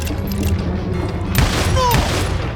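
Gunshots crack in Call of Juarez: Gunslinger, a sharp shot midway followed by another, over a rumbling game background.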